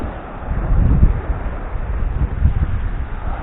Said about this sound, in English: I know the wind's picking up a little bit